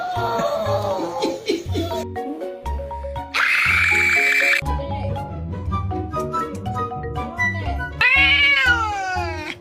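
A cat meows repeatedly in drawn-out, wailing calls, loud and close, several separate cries with short pauses between them and no talking over them.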